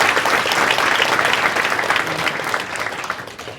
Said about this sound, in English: can I get a round of applause, please, for our speakers?